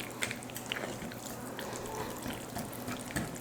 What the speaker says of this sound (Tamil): ரொம்ப கெட்டியாக இருக்குது, கொஞ்சம் தண்ணி சேர்த்துக்கலாம்